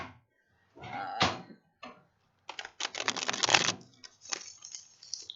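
A jack-o'-lantern tarot deck is riffle shuffled up close, with a couple of brief taps, then a dense fluttering burst of cards riffling and a softer closing bridge.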